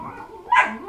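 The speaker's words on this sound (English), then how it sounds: "Hey, crazy puppies." A puppy lets out a single short, high yip or bark, close by and fairly loud, against a quiet background.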